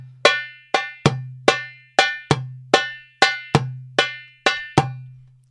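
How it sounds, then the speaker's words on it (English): Repeated Malfuf rhythms on a darbuka, a steady run of about eleven bright, resonant hand strikes with a low ringing drum tone, played solo and close. "If you play multiple Malfufs, it'll sound like this."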